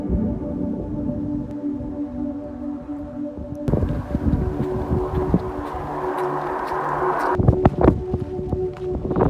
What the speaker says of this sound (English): It's getting ridiculously windy.